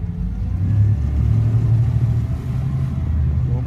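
A low pontoon boat engine rumble close by as it engages reverse, steady with slight shifts in pitch as the motor works, no voices.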